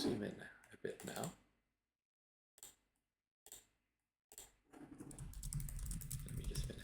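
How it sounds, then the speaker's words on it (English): Computer keyboard typing during spreadsheet work on a financial model, heard as soft clicks in short bursts with pauses, most steadily in the final seconds, with some talk near the start. "Let me just finish typing."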